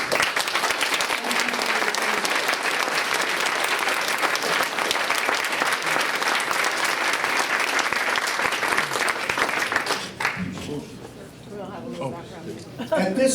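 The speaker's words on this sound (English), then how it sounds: "I'd like to have everybody give an applause for these people who served their country in time of war and in time of peace" An audience at a high school veterans tribute applauds those who served in war and peace, dense sustained clapping for about ten seconds before it breaks off into quieter room murmur.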